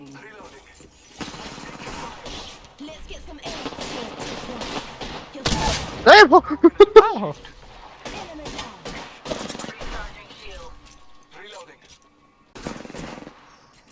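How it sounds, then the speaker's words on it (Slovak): Gunfire in the battle royale game Apex Legends, bursts of shots with a loud cluster of rapid cracks in the middle, under excited voices talking throughout. "Kam páliš? Strieľaj po nej,"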